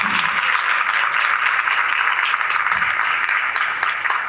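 A church congregation applauds for Pastor Sandra, an even, sustained rattle of many clapping hands heard from within the room, holding at a steady level for several seconds with no talk over it.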